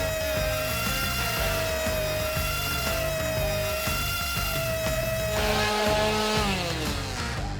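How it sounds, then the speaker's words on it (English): A power grinder sanding the wheel rims of an old van, running as a steady, loud, harmonic whine with a sustained tone that shifts in pitch near the end as the load changes; no voices. "We sand the rims with a grinder, gradually changing sandpaper grit to achieve a perfectly smooth surface"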